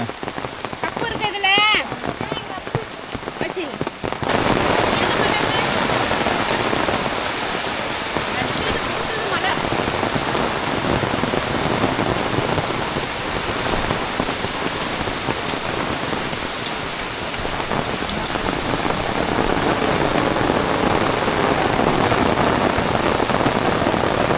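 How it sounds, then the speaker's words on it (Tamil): Heavy, sustained rain pours down in a dense, loud roar that does not let up. A voice is heard briefly before the downpour swells in. "மழை ஒன்றும் விட்ற மாதிரி இல்லை ஒரு மணி நேரம் நின்று பார்த்தா மழை விட்ற மாதிரி இல்லை"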